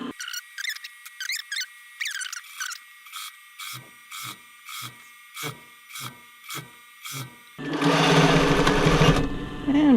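A sewing machine stitches rolled edge elastic onto a sports bra in a run of short, evenly spaced bursts, followed by a louder steady whir near the end, with a voice heard at the start.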